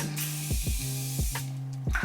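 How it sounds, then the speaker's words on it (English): Morphe setting spray hits a face in quick hissing pump bursts, about four short sprays in a row, close and crisp against a steady low hum. "And then I take the Morphe setting spray and I spray"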